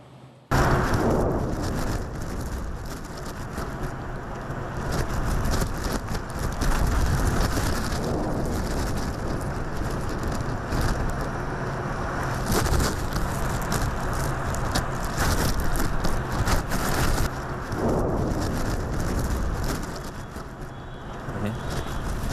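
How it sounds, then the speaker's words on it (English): Explosion blasts during the war in Ukraine, heard as a loud, sustained rumbling roar with several stronger bursts, probably distant, mixed with wind-like noise and no speech. "listen closely, and you're going to hear 3 blasts"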